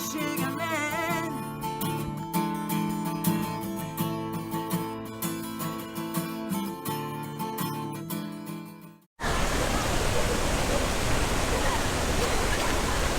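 Tad Yuang waterfall in Southern Laos roars as a steady, dense wash of falling water, loud and close, after music fades out.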